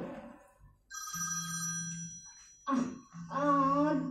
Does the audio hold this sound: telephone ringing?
yes